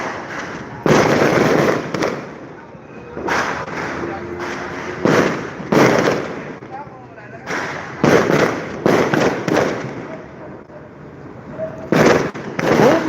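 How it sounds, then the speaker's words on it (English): New Year fireworks burst over the East River in New York, a run of loud booming pops and crackles arriving in irregular clusters, with people talking faintly in the gaps. "And there, I could still hear fireworks."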